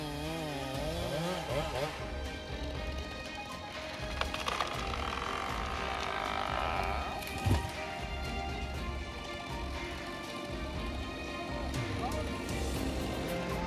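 A Husky 592 chainsaw engine roars continuously in a forest, a loud buzzing drone that rises and falls in pitch as the throttle changes, close by.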